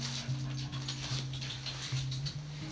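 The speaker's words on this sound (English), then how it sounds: "No, don't bark at me." A pet dog whimpers and whines up close, with repeated high tonal cries and small yips in a steady run, indoors with no talk.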